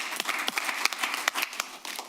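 An audience at a Board of Education regular meeting claps for a couple of seconds, a moderately loud scatter of overlapping hand claps with no voices over it.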